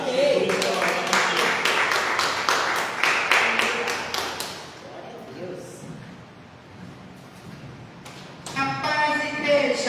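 A church congregation claps together, the steady rhythmic claps filling the first half, then fading out before a few scattered claps near the end.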